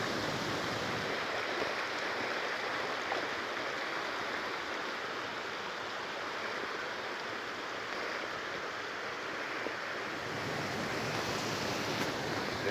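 Stream water rushing steadily beneath a small wooden trail bridge in the Pecos Wilderness, a dense, continuous close wash with wind noise, no voices.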